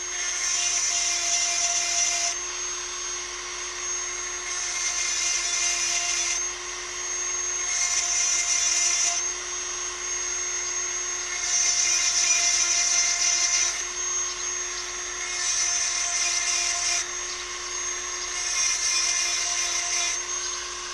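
A chainsaw chain is touched up with a powered sharpening tool, making repeated high-pitched grinding whines that start and stop in bursts of a few seconds each over a steady background hum, close and loud.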